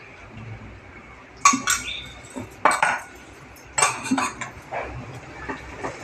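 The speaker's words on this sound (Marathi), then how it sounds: "आता असं मी ढवळत राहणार आहे" Kaju katli cashew dough with a little ghee is stirred in a pan, giving a few close metallic scrapes and clinks of a spoon against the pan between quiet pauses.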